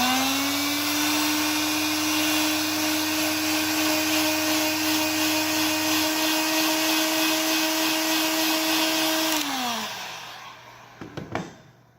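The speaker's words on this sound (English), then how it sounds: "now we're going to just shrink it with a heat gun." Heat gun blowing over PVC heat shrink tubing on a repair sleeve, a loud steady whine and airflow roar held for several seconds, then winding down and cutting off, followed by a few small handling knocks.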